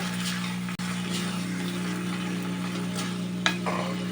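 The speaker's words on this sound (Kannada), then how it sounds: "ಚೆನ್ನಾಗಿ ಮಿಕ್ಸ್ ಮಾಡಿಕೊಳ್ಳೋಣ." Steady sizzling in a pan with soft scraping of a spoon stirring, continuous and fairly close, with a brief clink near the end; no voices.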